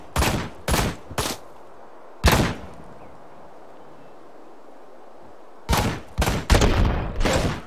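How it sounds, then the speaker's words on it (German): Gunfire in the video game Ride to Hell: sharp separate shots, three in quick succession, a lone blast, then a tighter burst of several more after a quiet gap, loud and close with no talk. "da ist auch einer, der schießt."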